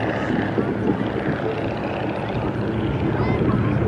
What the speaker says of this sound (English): Very popular airplane for air shows and especially mail delivery during the 20s and 30s.